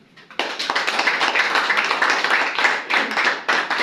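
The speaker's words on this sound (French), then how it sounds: "comme il parle, on peut applaudir." Audience applause at a certificate ceremony at a rural development ministry, bursting in after a brief quiet start and continuing as dense, steady clapping from many hands, with short dips before swelling again.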